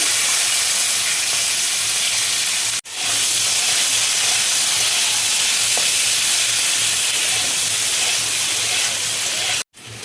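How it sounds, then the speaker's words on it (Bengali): Onion frying in hot oil for an egg curry, a loud, steady broadband sizzle and hiss running continuously, broken by two abrupt brief dropouts. "তেলের মধ্যে আমি পেঁয়াজটা দেখো দিয়ে দিচ্ছি"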